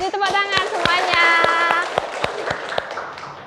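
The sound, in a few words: class clapping hands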